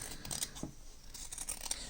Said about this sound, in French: Et je vais couper un peu ici aussi parce que j'ai quand même fait bien large.